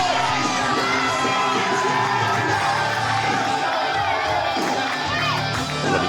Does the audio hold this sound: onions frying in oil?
no